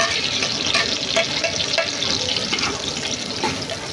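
Whole spices sizzling and crackling in hot oil, a steady close frying hiss with occasional pops and stirring.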